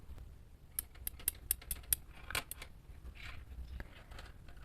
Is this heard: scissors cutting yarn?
yes